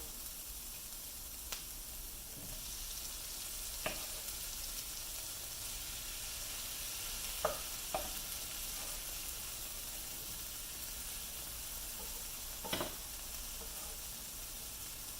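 Freshly chopped onions, cooked until crisp, fry in a pan as fresh tomato joins them, giving a steady, even sizzle and hiss throughout with a few faint clinks of stirring, and nobody speaking.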